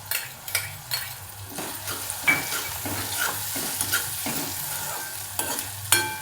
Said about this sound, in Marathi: आता ही डाळ टाकते ह्याच्यामध्ये. ती पण परतून घ्यायची आधी अशी.